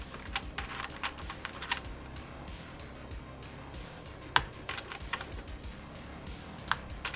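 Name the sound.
typing on a Mode Sonnet mechanical keyboard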